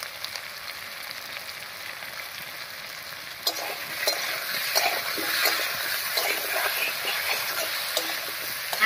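Raw banana and potato pieces frying in oil with salt and turmeric, giving a steady crackling sizzle that grows busier midway, with occasional stirring scrapes and no talking.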